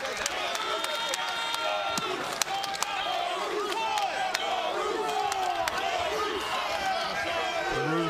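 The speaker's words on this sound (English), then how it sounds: "Getting the crowd fired up here in New Orleans." A wrestling crowd in a New Orleans arena cheering and roaring continuously, with scattered shouts and claps over steady crowd noise, while a commentator talks over it.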